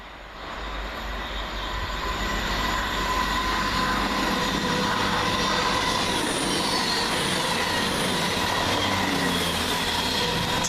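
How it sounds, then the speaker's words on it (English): A CrossCountry passenger service from Bristol Temple Meads to Manchester Piccadilly passes through Coseley station, its loud, steady rumble and rolling wheel noise building quickly and holding close throughout, with faint high squeals from the wheels and no talking. "Cross-country service from Bristol Temple Meads to Manchester Piccadilly"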